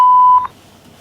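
A telephone keypad gives one steady electronic beep that lasts about half a second and then cuts off. A faint quiet background follows.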